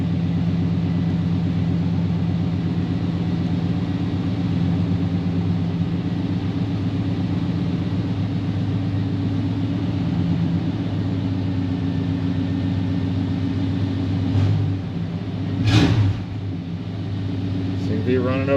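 An idling engine in a 1988-93 Chevy OBS pickup truck, heard just after starting. It holds a steady low rumble the whole time, with a brief louder burst near the end.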